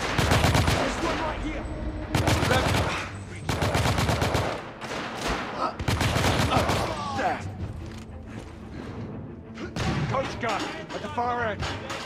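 Gunfire in the video game The Order 1886, loud sustained bursts of rapid shots with heavy booms and mechanical clatter, with voices shouting over the battle.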